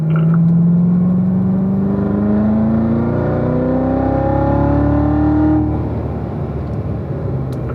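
A race car accelerating out of a corner on a track, its engine note climbing steadily in pitch through the gears, loud and close, then easing off toward the end.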